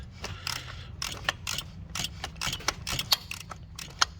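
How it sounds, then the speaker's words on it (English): Quick rhythmic clicking of a 1/2-inch ratchet loosening the oil pressure switch on a 2014 Jeep Wrangler, close-up bursts of metallic ticks in short irregular runs. "I am using a 1/2" ratchet to get to this."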